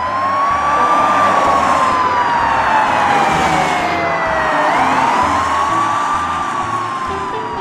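Toy police car siren wailing continuously and loudly up close, a rising and falling electronic tone that sweeps slowly over several seconds with no talking.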